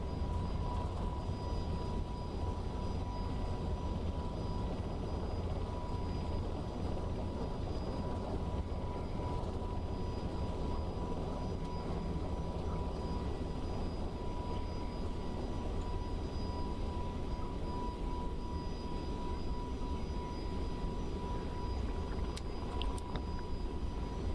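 An FSLabs Airbus A321neo sits on the runway in a flight simulator, a continuous, even engine drone with a steady tonal whine holding for the whole stretch, with no talking.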